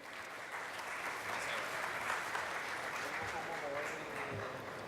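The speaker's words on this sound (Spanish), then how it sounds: "les quiero pedir a ustedes que me lo acompañen con un aplauso de bienvenida" Welcome applause for a speaker at a mining trade fair in Colombia, an audience clapping in a dense, even, fairly faint roar from start to finish.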